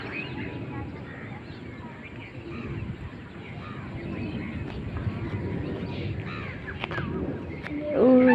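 A crow cawing over a rural village, a few scattered, fairly faint caws against soft outdoor background noise, with some voices murmuring.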